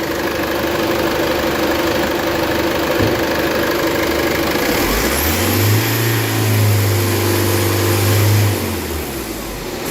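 Common rail diesel engine is revved and held near 3,000 RPM during a fuel pressure test. A loud, steady idle drone rises into a sustained higher-pitched rev for a few seconds, then drops back.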